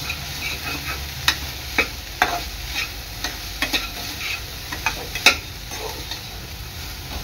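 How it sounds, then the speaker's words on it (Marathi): A spoon stirs chili powder, chili flakes and oregano in a hot pan for a pizza pocket filling, with soft sizzling under repeated sharp scrapes and taps against the pan. "थोडीशी मिरची पावडर, चिली फ्लेक्स आणि ऑरिगॅनो. मिक्स करून घ्यायचं आहे."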